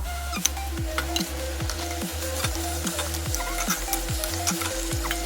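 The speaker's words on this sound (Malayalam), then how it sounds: "അപ്പൊ ഗൈസ് നമുക്ക് ഇനി മീനിടാം" Pieces of kera (tuna) fish sizzle steadily in hot oil in a pan for a chili fish dish, with repeated scraping stirring strokes and small pops over a constant close frying hiss.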